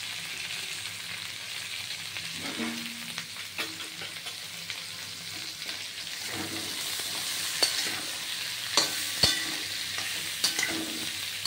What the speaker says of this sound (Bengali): এই পেঁয়াজ, আদা, মিষ্টি কুমড়ো এগুলো আর নারকোল এগুলো সব আস্তে আস্তে ভাজা হবে